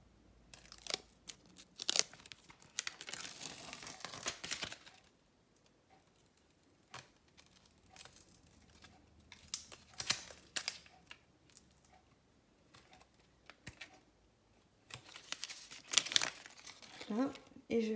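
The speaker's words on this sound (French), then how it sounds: "Alors, j'enlève la pellicule." Protective backing film peeled off an adhesive sheet while making a craft advent calendar: close crinkling and crackling bursts with brief tearing rasps, separated by quieter pauses.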